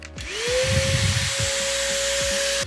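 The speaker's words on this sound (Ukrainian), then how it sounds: "Пилосос такий досить нетихий. Але скажу, що в порівнянні зі звичайним мережевим ну значно тихіший." A cordless vacuum cleaner from AliExpress powered by a Makita 18V battery switches on and runs, a loud steady whine with a rising motor tone that settles into a constant hum, with a few clicks near the start.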